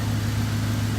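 A 2004 Chevy Silverado 1500 engine running in extreme cold, a steady low idle hum heard up close with no voices.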